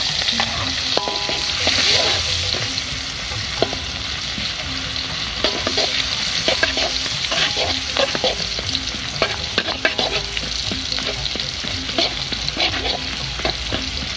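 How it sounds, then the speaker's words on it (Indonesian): Onions fry in a hot pan during outdoor garden cooking, a dense continuous sizzle with repeated scraping strokes of a spatula stirring them, close and steady throughout. "Kita langsung mulai goreng bawangnya nih"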